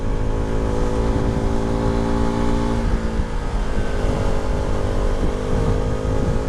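A KTM RC390 sport motorcycle engine drones loud and close on a test ride, holding a steady hum before the pitch shifts as the rider changes speed, with strong wind rush throughout.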